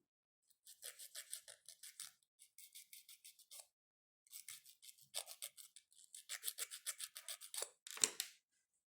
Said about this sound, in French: Et tu viens limer.